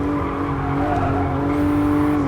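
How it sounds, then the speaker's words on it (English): A road car in Gran Turismo Sport drifts with a sustained, loud tire squeal over a steady engine drone, a short continuous screech heard up close without talk. "Oh, bit of drift action."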